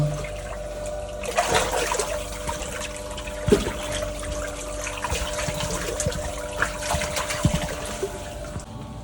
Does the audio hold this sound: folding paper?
no